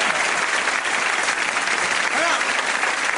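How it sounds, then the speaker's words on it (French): Applause from a tennis audience, dense and steady for a few seconds, with a faint voice rising briefly near the end. "On peut applaudir."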